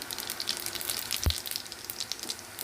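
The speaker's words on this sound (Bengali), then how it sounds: "আর এদিকে কড়াইয়ে আর একটু তেল দিয়েছি আর দিয়ে দেব কিছুটা জিরে ফোড়ন" Cumin seeds temper in hot oil in a kadai, producing a faint, continuous sizzle of fine crackles with one brief clink partway through.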